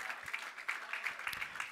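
A church congregation claps in quick, rhythmic unison during a sermon, a steady patter of many hands heard at a moderate distance.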